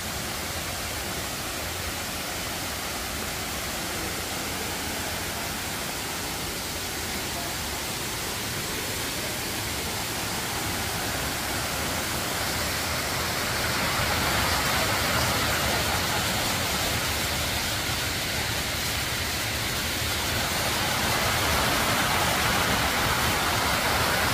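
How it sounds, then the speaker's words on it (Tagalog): Steady broadband rush of a waterfall near Daliran Cave in Buenavista, Guimaras, a continuous roar that swells slightly louder toward the end, with no voices. "Ayan, waterfalls."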